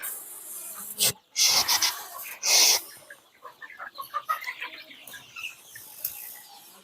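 Young country chicks on a poultry farm give rapid, overlapping high peeps and chirps that fill the second half, after a few loud, rough bursts of noise near the start.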